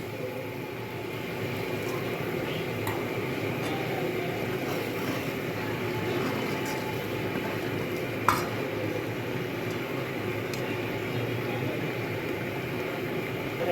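A steady sizzle of spice paste frying in a pan, with soft scraping and stirring throughout and one sharp clink of a utensil.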